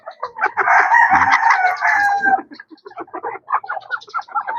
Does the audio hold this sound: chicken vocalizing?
yes